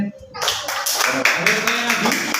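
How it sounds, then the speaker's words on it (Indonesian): A classroom of students claps together after presentations in a lesson, a short burst of fairly close hand clapping that starts abruptly after a brief quiet moment, with a voice briefly audible. "Oke, kita beri tepuk tangan semuanya."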